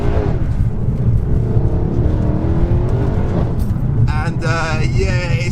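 Car engine revving hard as it launches in sport mode with its wheels spinning, a steady loud roar throughout, with a higher squealing whine rising near the end.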